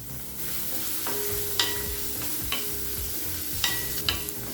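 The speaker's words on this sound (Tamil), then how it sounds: "லேசாக வதக்கிட்டால் போதும்" Grated carrot is sautéed in a pan for rava idli, giving a steady low sizzle with scraping stirs and a few sharp clinks of the spoon against the pan, close-up, with no talk.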